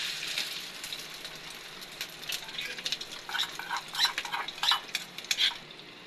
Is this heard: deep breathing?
no